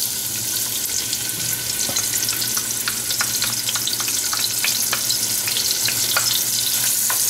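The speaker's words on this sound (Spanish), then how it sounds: "ya el aceite calentó, entonces lo que vamos a hacer es vamos a echar la cebolla." Onion frying in hot oil for lentils with smoked ribs, a dense bright sizzle with scattered crackles and pops, steady and close, no voices present.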